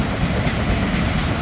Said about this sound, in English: That's probably going to be the final train for me today.